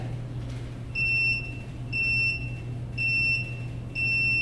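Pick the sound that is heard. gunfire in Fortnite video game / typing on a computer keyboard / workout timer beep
workout timer beep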